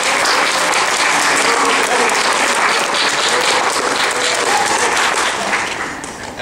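A theatre audience bursts into loud, sustained applause as a show of hands by clapping, a dense roar of many hands that holds steady for several seconds before easing slightly at the end.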